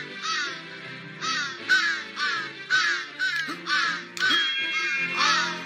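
Ravens in the video game Santa Claus In Trouble, a flock cawing in repeated harsh calls about twice a second, loud and close, with overlapping caws and no talk.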